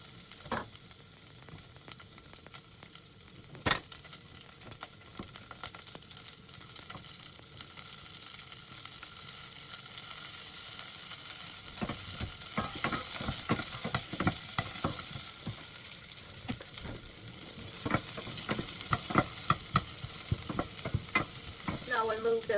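Onions frying with a bay leaf in a pan for a holiday feast, a continuous hiss of sizzling that grows busier and more crackly halfway through, with scattered stirring scrapes and no talking.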